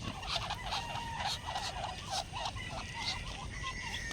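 Ducks on a small family farm quacking and calling in a loose, repeated rhythm at close range, mixed with other poultry noise against steady outdoor background, with no talking.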